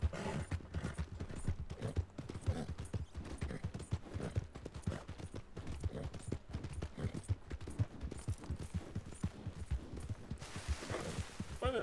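Horse hooves clip-clop in a quick, regular rhythm throughout a video game ride, close and steady, with a brief burst of noise near the end.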